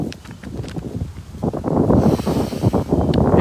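Wind gusting across an outdoor microphone, low rumbling buffets that swell and grow louder toward the end, with rustling and scattered knocks mixed in.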